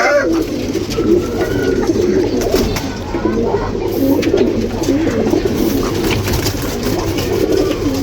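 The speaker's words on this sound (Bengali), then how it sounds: "এগুলো সাপচিলা কবুতর" Sapchila pigeons cooing in a loft, several birds producing overlapping low, throaty coos in a steady, close, loud chorus throughout.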